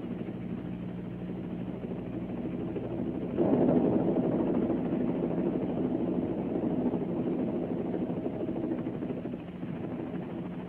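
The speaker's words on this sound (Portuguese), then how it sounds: "Isso é um helicóptero? Está aterrissando no estacionamento." A helicopter's rotor and engine thrum steadily at a distance as it comes in to land in a parking lot, growing somewhat louder partway through and holding a low, continuous drone.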